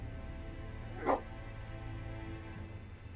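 A dog barks once in a video game, a single short yelp over a steady background game soundtrack.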